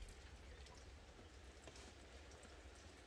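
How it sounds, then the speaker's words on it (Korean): Heavy rain falling on a bark-roofed house in Samcheok, a dense, steady hiss of drops with a low rumble underneath, continuous and fairly close throughout. "콜피집에 비가 이렇게 모처럼 푸짐하게 오는 날은"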